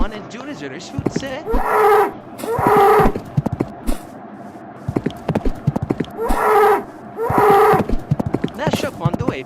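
A cartoon cow charges angrily in a video game, with repeated game sound effects of galloping hooves and animal calls in bursts under a narrator's talk.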